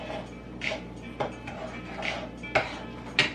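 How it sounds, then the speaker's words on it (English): Banana bread batter stirred in a bowl, a few scattered clinks and scrapes of a utensil against the bowl over a quiet kitchen background. "And then just stir it up."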